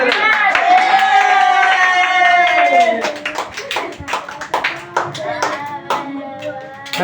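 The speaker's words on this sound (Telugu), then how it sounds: "ఒకసారి మళ్ళీ ఒకసారి చప్పట్లు కొట్టండి" A group of children clapping together at a news event, several rounds of brisk, uneven claps, close and loud, following an adult voice speaking over the start.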